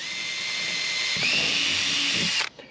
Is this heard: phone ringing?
no